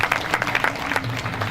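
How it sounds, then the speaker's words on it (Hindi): Audience at a Hindi comedy poetry gathering at a temple claps in a short burst of scattered applause, quick uneven hand claps from a modest crowd. "इतने बढ़िया कुलदीप भाई के लिए भी ताली बजा दो एक बार"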